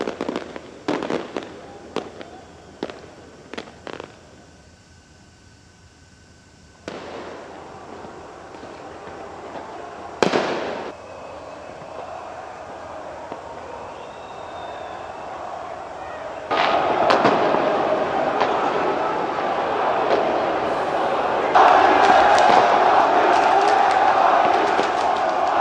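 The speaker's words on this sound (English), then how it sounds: "Eyewitness footage showed the tower lit up in PSG's colour as fans set off fireworks in celebration." Fireworks burst over the Eiffel Tower in Paris as crowds celebrate a PSG football victory, with sharp isolated bangs early on giving way to dense, continuous crackling and rumbling from a sustained display.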